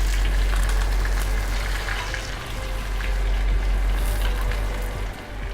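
Butter sizzles in a hot pan while beef is being seared in a restaurant kitchen, a steady close crackle over a low kitchen hum, with no voices.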